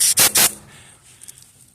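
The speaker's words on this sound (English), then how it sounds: "I got it hooked up to my air compressor, and I'm just going to lightly spray this." Three short, loud bursts of compressed air from an air-compressor spray nozzle used to clean an old item stored in a box for 30 years, followed by faint rubbing and handling noises.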